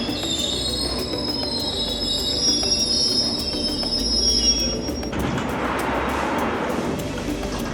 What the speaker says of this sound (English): Hammersmith and City Line train